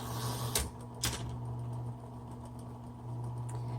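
Typing on a 1970s Smith Corona Coronet Electric 12 typewriter continuing past the margin after margin release: two sharp, loud key strikes followed by a row of softer, evenly spaced clicks over the machine's steady electric motor hum.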